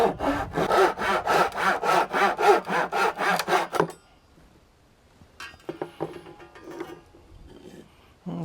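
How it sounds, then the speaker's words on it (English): Rapid rhythmic hand sawing through bamboo, about a dozen quick strokes, then silence followed by faint handling and clattering. "Start out by sawing out 2 sections of the bamboo."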